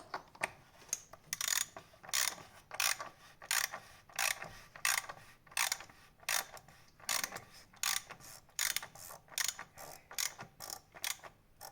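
Ratcheting torque wrench tightening the oil filter housing on a Range Rover TDV6 engine during a major service, a steady run of crisp clicking bursts repeating roughly every half second, close and alone.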